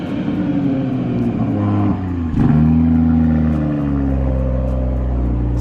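A car engine, tied to an Infiniti Q50s, rumbles close and loud, dipping briefly before a sharp rev swell near the middle, then settles into a deep, steady idle drone.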